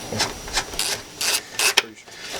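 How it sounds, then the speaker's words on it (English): A hand wrench breaks suspension bolts loose on an Isuzu Stylus during a camber plate install, giving a series of short metallic ratcheting clicks in uneven bursts, close and fairly loud. "Anyway, I break everything loose by hand."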